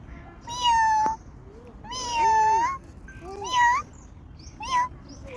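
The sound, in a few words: cat meowing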